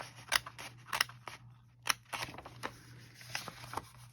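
Scissors cut through junk mail paper toward the corners, a series of close, crisp snips at an irregular pace with soft rustling between cuts.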